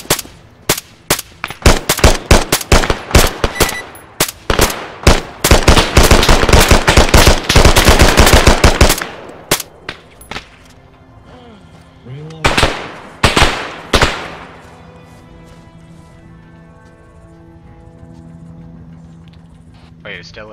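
Machine gun fire in a military combat video game, dense rapid bursts for the first several seconds, then sporadic shots tapering off, with shouted voices over the action.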